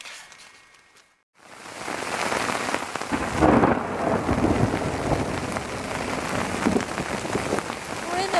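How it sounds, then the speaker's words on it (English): A major thunderstorm hits a mountaineering camp on Mt Rainier, with heavy rain drumming on the tent and rumbles of thunder. The sound starts after a brief silence and stays loud and continuous. "We're in a wee bit of a storm."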